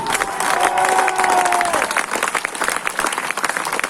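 Audience applause at a comedy stage show, a dense, loud wash of clapping with some cheering, plus a sustained tone in the first half that fades out, the ovation continuing strongly to the end.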